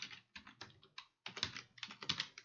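Python code being typed on a computer keyboard, with bursts of quick, close key clicks separated by short pauses and no voices.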